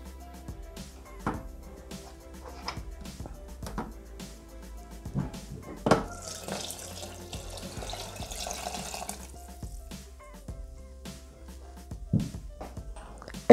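Water runs into a Thermomix bowl while pasta is prepared in a kitchen, a steady faint splashing pour in the middle surrounded by scattered clicks and knocks of handling.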